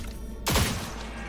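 A single sharp shot from a Chaos tech pistol in Cyberpunk 2077, a loud close crack with a short descending zap tail, over a low steady game hum.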